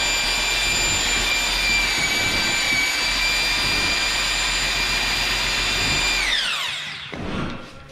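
A power mixer paddle whirs steadily and loudly as it churns hot mud, setting-type drywall joint compound, in a bucket for retexturing a ceiling, then winds down in pitch and stops near the end.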